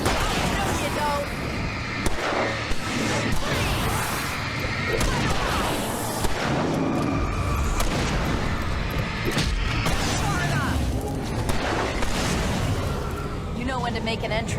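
Gunfire in the Alan Wake Remastered video game, rapid loud shots and booms bursting repeatedly over a dense layer of game music and effects, with voices shouting among the blasts.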